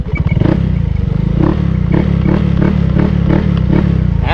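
A motorcycle engine without an ECU remap revs hard out in a field, a loud, close, rough throbbing drone with rhythmic pulses and crackles throughout, no talking.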